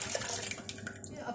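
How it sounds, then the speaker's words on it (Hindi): Water poured into thick kadhi batter in a cooking pan, a short watery splash and trickle with faint speech underneath. "इसमें थोड़ा सा पानी डालेंगे ताकि ये भी इसमें अच्छी तरह से मिक्स होकर शामिल हो जाए"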